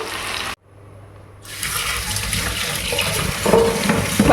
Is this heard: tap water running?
yes